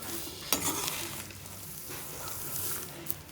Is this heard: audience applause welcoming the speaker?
no